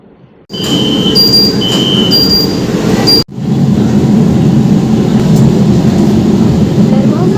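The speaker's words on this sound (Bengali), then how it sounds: "মোতাবেক আটচল্লিশ মিনিটে ছেড়ে দিল আমাদের মেট্রো" A Kolkata metro train pulls away with a loud, close rolling rumble, preceded by brief electronic chime tones, briefly interrupted, then building into a steady roar as it gathers speed.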